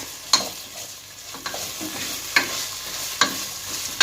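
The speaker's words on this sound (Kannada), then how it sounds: "ಒಂಚೂರು ಫ್ರೈ ಮಾಡಿ ಮಿಕ್ಸ್ ಮಿಕ್ಸ್ ಮಿಕ್ಸ್" Masala for mushroom biryani sizzles softly in a pan, with several sharp scraping strokes of a spoon stirring at irregular intervals.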